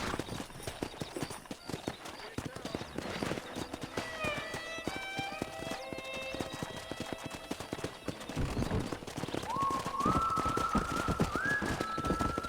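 Horse hooves clip-clop steadily over a busy outdoor soundscape in Red Dead Redemption, joined later by a horse's whinny.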